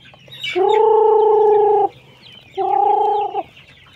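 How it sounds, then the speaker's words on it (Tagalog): Young chickens on a Filipino farm give two drawn-out calls, the first long, the second shorter after a pause, loud and close over quiet background noise. "maraming mga manok"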